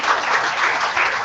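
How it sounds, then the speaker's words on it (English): Audience applause fills a valedictory session celebrating the GenomeIndia project: a dense, steady wash of many hands clapping together, loud and sustained throughout without any talk. "Another round of applause."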